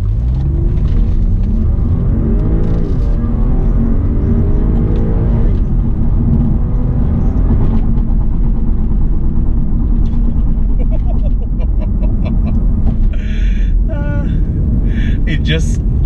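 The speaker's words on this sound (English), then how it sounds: "Best part about Audis is the way it accelerates." An Audi accelerating hard, its engine a loud, steady rumble with a rising drone that fills the whole stretch, with voices talking over it.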